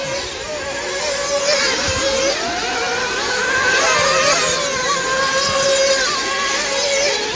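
Racing vehicles in a final-F heat at the 2022 Montpellier Grand Prix head off to lap the track, their overlapping high-pitched engines buzzing and wavering steadily and fairly close throughout, with no talk.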